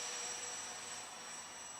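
Twin electric motors of an Ares V-Hawk RC airplane running at 75% throttle, a steady, airy whine with a thin high tone, fairly faint and constant throughout.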